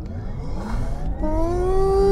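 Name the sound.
Porsche Taycan 4S electric car launch control acceleration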